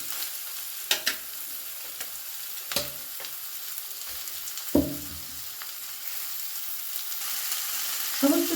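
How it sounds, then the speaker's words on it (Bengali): Steady sizzling of chicken mince stir-frying with onions in a pan, broken by a few sharp clanks and scrapes of stirring, with no voices. "চিকেনের কিমাটা এর মধ্যে দিয়ে দিয়েছি এবার ভালো করে একটু আমি পেঁয়াজের সাথে মিশিয়ে নেব"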